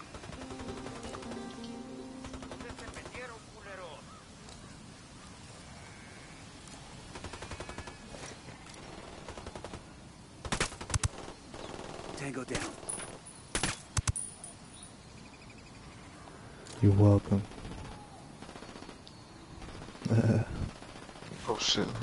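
Gunfire in the video game Ghost Recon Wildlands: a few sharp, loud shot bursts break through a steady background of game noise and voices, with scattered cracks clustered near the end.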